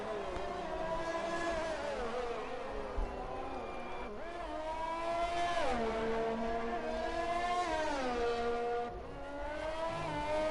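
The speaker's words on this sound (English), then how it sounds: "hear some engines starting up" Several F1 race car engines start up and rev in an F1 video game, rising and falling whines layered over each other, moderately loud and steady.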